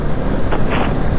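Strong sea wind buffets a microphone during a motorcycle ride, a loud, continuous roaring rush with low rumble and brief gusty swells.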